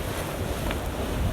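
A sailboat planes at 10 knots under a large spinnaker in a 20-knot wind, heading north of Ouessant. The rush of water and steady wind noise on the microphone stay loud and constant throughout, with no voices.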